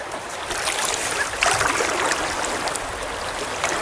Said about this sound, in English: Plop back down into the water